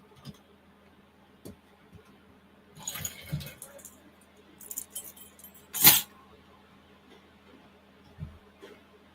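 Metal master keys for mastered wafer locks jangle and clink in the hand in a few brief bursts, with one sharper clatter near the middle, close and fairly quiet against a soft room hum.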